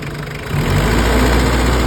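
A non-turbo car engine idles with a low, steady rumble that swells slightly louder after a moment, then holds a constant vibrating drone.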